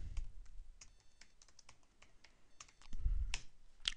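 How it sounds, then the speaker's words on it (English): Password keystrokes on a computer keyboard come as a quick run of light, soft clicks followed by a few firmer taps, close and quiet with nothing else heard. "So my UPPMAX password, let's type it in"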